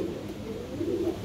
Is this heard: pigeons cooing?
yes